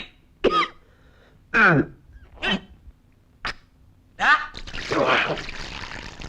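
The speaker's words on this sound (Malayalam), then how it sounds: "എല്ലാം കൊടുക്കുന്ന ചുമയാടാ" A person coughs several times in short, sharp, separate bursts, followed by a rougher rasping stretch near the end.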